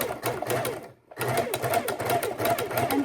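A sewing machine stitching fabric for homemade room-deodorizer sachets, running in a fast steady whir with a brief pause before starting again, close and clear.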